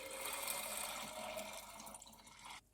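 Plain tap water pours into a jar of sprouting legumes, a steady hissing fill that softens and then cuts off abruptly near the end.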